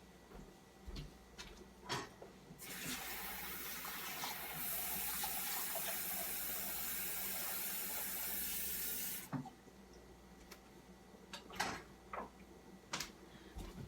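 Lukewarm water runs from a tap for a homemade face cream. The rushing flow is steady for about six seconds, with soft clicks and knocks before and after it.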